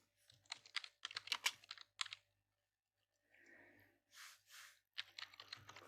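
Text being typed on a computer keyboard while working in Photoshop, with quick bursts of close, crisp key clicks separated by short pauses.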